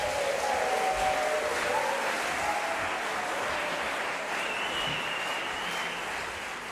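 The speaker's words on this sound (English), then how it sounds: "Please give a massive round of applause for the Barbies!" Sustained audience applause for a chorus at an evening chorus show, a dense, even wash of many hands clapping throughout, steady and fairly loud with no talk over it.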